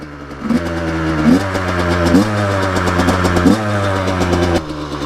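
A new 85cc motorcycle engine idles steadily while being broken in, a close, loud and continuous mechanical drone with slight throttle blips and pulses in its rhythm, with no voices.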